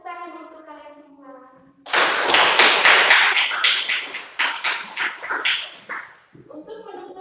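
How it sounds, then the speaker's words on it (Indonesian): A school class breaks into applause for several seconds, a dense burst of many hands clapping that fades into a few rhythmic claps, with a voice speaking before and after. "Kita kasih tepuk tangan untuk kalian semua."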